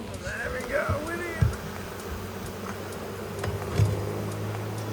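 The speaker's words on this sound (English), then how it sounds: "Thousands of bees." A swarm of honeybees buzzes steadily while being removed from a flat roof, a low continuous drone with a couple of louder close passes and thumps from the work.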